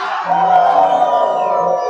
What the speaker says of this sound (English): Y'all give me a yell.